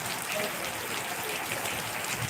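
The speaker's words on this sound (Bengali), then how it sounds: "প্রচুর পরিমাণে বৃষ্টি হচ্ছে" Heavy rain falls in a continuous, even hiss, fairly soft and diffuse, with no distinct voices.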